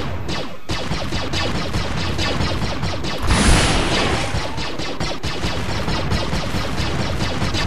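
Starfighter blasters firing in Clone Wars Adventures, a rapid, steady stream of loud laser shots with a brief swelling blast in the middle, dense and continuous throughout.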